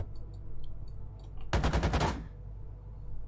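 2A42 autocannon firing in the GHPC tank game, a short rapid burst of about a half-dozen loud shots after quiet background rumble.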